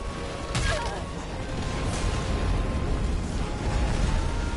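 Dense, booming explosions in the intro of the Stellar Blade video game on PS5, heard as a continuous roar of rumbling blasts and bursts with no pauses between them.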